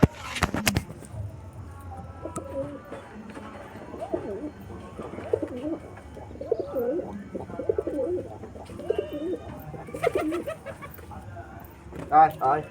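Pigeons coo and flutter while being fed, soft repeated cooing and scattered wing flaps near and far, with a person talking throughout and a few sharp clatters at the start and end.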